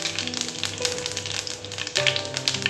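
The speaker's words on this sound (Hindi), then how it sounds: "तेल गर्म हो चुका है, इसमें हम जीरा डालेंगे।" Cumin seeds sizzling in hot oil in a kadai for jeera aloo, a steady close crackling fry with light stirring, a faint tonal hum underneath, no speech.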